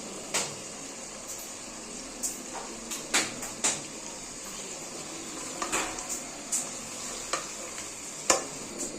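Turnip pieces frying in a pan, with faint sizzling beneath repeated sharp scrapes and clinks of a utensil stirring against the pan, scattered irregularly and fairly close.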